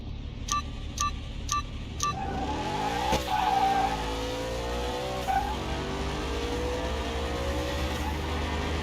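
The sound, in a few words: Dodge Viper V10 race car driving, from video game Car Mechanic Simulator 2021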